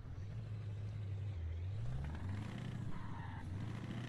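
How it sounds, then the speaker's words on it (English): A truck engine in a video game drones steadily and low throughout, its pitch shifting slightly as it holds a continuous rumble with no talk over it. "Sounds nice, this truck, though."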